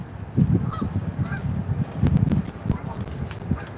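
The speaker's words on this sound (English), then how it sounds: "Hey, geeses." Several geese honk in repeated bursts at a lakeside harbor on an early morning in Two Harbors, Minnesota, the calls fairly close and loud over a soft outdoor background, with no talking.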